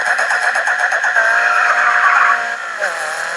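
A Mustang skids in Grid 2 with a loud, sustained tire squeal over a revving race engine, close and intense, easing off near the end.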